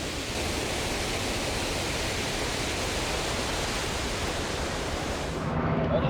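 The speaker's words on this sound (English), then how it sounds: "The waterfalls are absolutely amazing." Victoria Falls roars as a dense, steady wall of rushing water noise, loud and continuous throughout.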